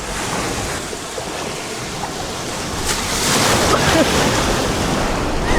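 Cold Chilean sea waves break and surge nearby, building louder toward the end, with gusty wind buffeting the microphone.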